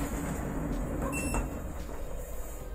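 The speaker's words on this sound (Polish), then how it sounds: "Zamykanie drzwi." New elevator doors at the Pole Mokotowskie metro station in Warsaw slide shut with a brief mechanical whir and soft thud, set against a steady low hum inside the car.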